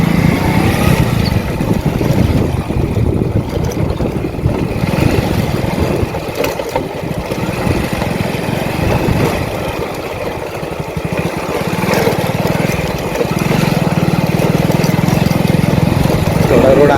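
A bike's engine rumbles steadily while it rides slowly over a potholed, partly unpaved road, the note dipping and surging with the bumps, heard close and loud throughout.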